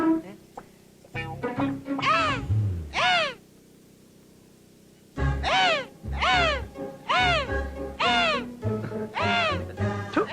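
In a Telugu comedy film scene, a man mimics a crow cawing, with loud nasal caws in two bursts separated by a brief quiet gap, delivered close and mixed with voice-like sounds.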